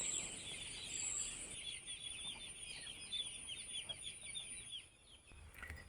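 A crowd of young chicks packed inside a brooder circle in a large poultry shed cheeps continuously in a thin, high, overlapping chorus, faint and steady from start to finish.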